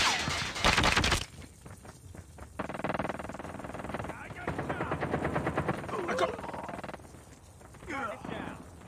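Rapid automatic gunfire bursts rattle through a Call of Duty multiplayer match, with loud opening shots followed by stretches of chattering fire and game voice callouts over the action.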